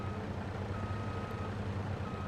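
A truck's reversing alarm in Farming Simulator 22 beeps faintly and steadily over a low engine hum, fairly distant, with no speech.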